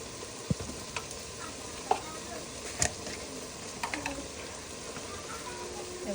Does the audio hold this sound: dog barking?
no